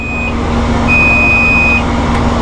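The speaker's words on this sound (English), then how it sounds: "if we put this in forward, you're going to hear the famous little beep at you" A Massey Ferguson utility tractor's gear warning beep sounds twice over a steady, loud engine idle as it is put in forward. One short high tone is followed by a longer one.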